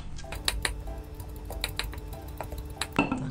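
Sauerkraut cabbage being pressed down firmly by hand in a container, a series of close, soft crunching squeaks and taps at an irregular rhythm, moderately quiet with no talking.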